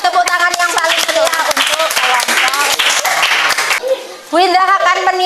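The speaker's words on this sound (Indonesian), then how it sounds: "kasih tepuk tangan yang paling meriah untuk kelompok." A class applauds a student group in an Islamic religious education lesson, dense clapping running throughout with children's voices over it, a brief lull near the end before cheering voices return.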